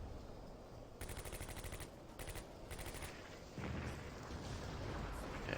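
Gunfire in the Combat Mission video game, with bursts of rapid automatic fire in several volleys and heavier distant shell impacts rumbling beneath, no voices.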